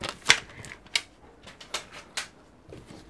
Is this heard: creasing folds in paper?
yes